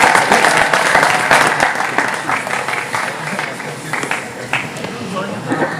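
A big roar of audience applause welcomes Savitri, a JPSC topper, to address a gathering in Jharkhand. It is loud and dense, and it carries on steadily for the whole stretch with crowd noise mixed in.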